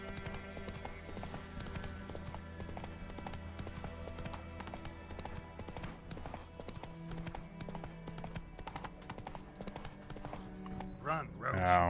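Roach the horse gallops in The Witcher 3 video game, a steady rhythmic clip-clop of hooves under game music, with a voice speaking near the end.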